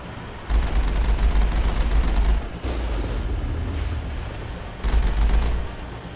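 Sustained bursts of gunfire and heavy blasts from a firefight in the Mass Effect video game, loud and continuous with two especially dense volleys near the start and end.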